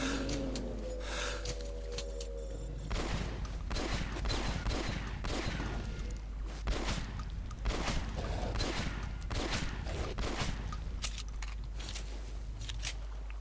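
Shotgun fire in the video game Metro: Last Light, a rapid series of repeated blasts and impacts mixed with chaotic combat noise, steady and fairly loud over a constant low hum.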